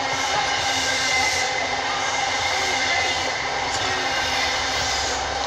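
Deltic-hauled train 43367 passing through Ely station at speed, a loud, steady rumble and rushing noise of rolling wagons close by, with no pause.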